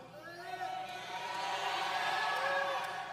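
A church congregation shouts together in a sustained, swelling roar of many voices that builds and holds for a few seconds, moderately distant, with occasional individual yells within the mass.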